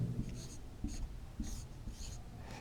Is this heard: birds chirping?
no